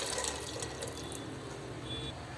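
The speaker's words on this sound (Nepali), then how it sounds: "अब यसमा पानी हाल्न जाँदैछु।" Water pours steadily into a pot from a tap for boiling macaroni pasta, a continuous close splashing rush that runs throughout.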